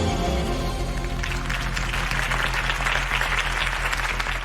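A crowd in a video game claps and cheers continuously, dense applause rising after a moment and holding steady throughout.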